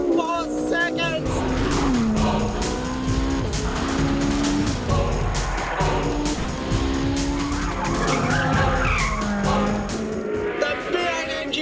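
A Ferrari 458 Italia accelerates hard under full throttle, its engine revving up toward a 9,000 rpm redline with rising harmonic whine and some tire noise, loud and continuous alongside a voice talking over it.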